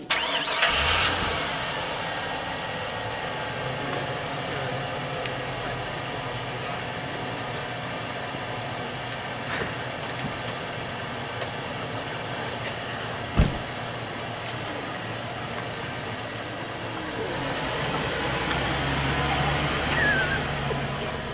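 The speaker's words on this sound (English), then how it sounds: "Jim Galen drove Chris all the way from Fairbanks, Alaska to Stampede Trail" A car engine starts with a short burst and then settles into a steady, mid-pitched hum as it drives along a road from Fairbanks, Alaska toward the Stampede Trail, with a faint thump partway through and the engine swelling again near the end.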